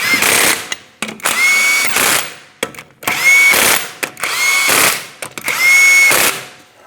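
An impact-style power tool runs the 21mm lug nuts onto a Ford Transit-250 front wheel in loud close bursts, each a rising whir with ratcheting clatter, repeated several times with short gaps between.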